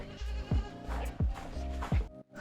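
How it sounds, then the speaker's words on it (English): A young lamb on a goat farm bleats four times in a quick, regular series. Each call is close and clear, with a low rumble of background noise between the cries. "He's our only lamb and the only sheep we have on the farm."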